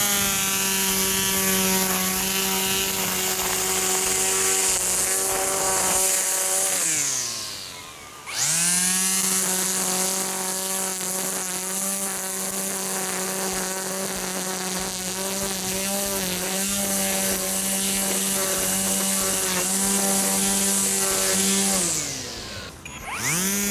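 A string trimmer edges lawn around flower beds with a loud, steady engine whine. The motor dips briefly twice, then revs back up, with no talking.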